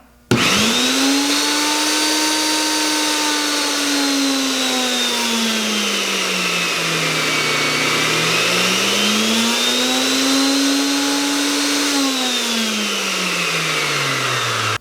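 A whirlpool tub pump motor runs steadily with a smooth whirring drone, its pitch sweeping up and down as the speed is adjusted, close and continuous for the whole stretch.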